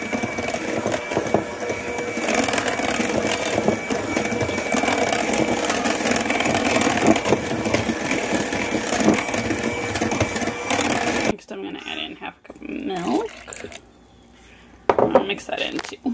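An electric mixer beats sugar into sweet potato pie filling with a steady whirring drone for about eleven seconds, then stops, leaving a few clinks, knocks and quiet talking.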